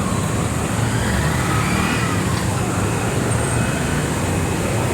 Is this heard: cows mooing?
no